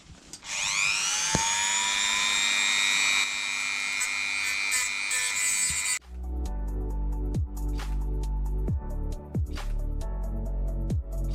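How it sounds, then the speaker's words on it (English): A grinding disc cuts metal off a stuck nut on a Mercruiser Alpha Gen 1 outdrive, making a loud, steady whine for several seconds that then gives way to rough, rattling grinding with sharp clicks. "I'm going to see if we can grind some of this metal off to assist us in getting the nut from the threads"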